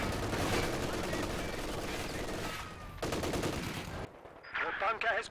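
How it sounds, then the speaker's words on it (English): A machine gun in a garrisoned building in Company of Heroes 2 fires long, dense bursts. Battle noise surrounds it, and the gunfire breaks off near the end as other effects come in. "we've got a machine gun in this garrison"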